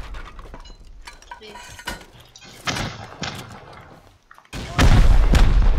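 In the video game Rust, during a raid defence, rocket launchers fire and explode. Clinks and booms build to a loud, sustained roaring blast near the end.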